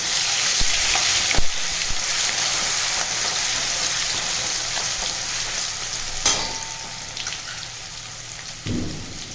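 Ginger-chili paste sizzling and frying in hot oil with bay leaf, a continuous crackling hiss close by, broken by a few sharp clicks and a soft stirring scrape near the end; no talking.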